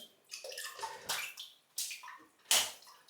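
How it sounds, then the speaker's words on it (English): Tap water runs in short bursts to wet a shaving brush before lathering Stirling black cherry soap, several brief splashy gushes starting and stopping close by, no talking. "let's wet the brush and get lathering"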